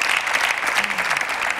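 Steady, dense applause from a studio audience at a Tunisian TV talk show, even and continuous throughout with no gaps.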